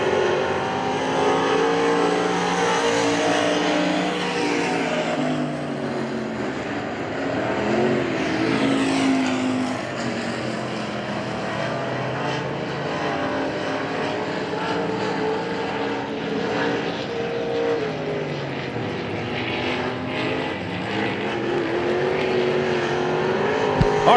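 Race cars running time trial laps at Hagerstown Speedway, a steady loud roar of engines over about twenty-four seconds with rising and falling pitch sweeps as cars pass, no talk.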